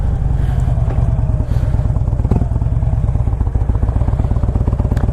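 A 2007 Harley-Davidson FLHT with a 96 cubic inch motor and six-speed rumbles steadily while being ridden in the rain, its loud, close, pulsing exhaust beat running continuously throughout.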